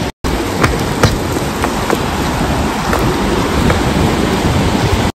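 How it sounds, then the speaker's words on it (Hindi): Heavy rain pouring on the trek to Kalpeshwar Mahadev mountain temple, a loud, dense, steady roar with occasional sharper drops and taps close by. "बारिश काफ़ी ज़्यादा तेज आ चुकी है"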